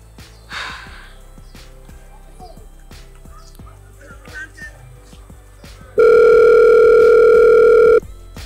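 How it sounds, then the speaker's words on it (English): A telephone ring-back tone plays loud and steady for about two seconds while calling someone, following quiet breathing and faint background sounds. "We'll try and call her again."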